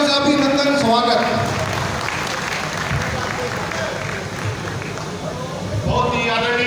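Crowd at a political rally clapping loudly for a candidate, a dense continuous roar of applause filling the whole stretch while an amplified speaker talks over its start and end.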